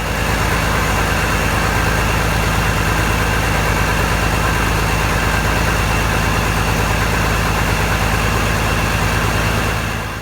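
A turbocharged International Harvester 986 tractor diesel engine idles steadily up close, a loud, continuous low rumble with a throbbing, even rhythm and no talk over it.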